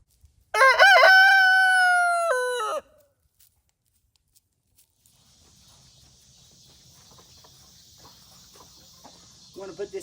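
A rooster crows once, loud and close, a long harmonic call lasting about two seconds, followed by quiet with faint insect chirping in the background.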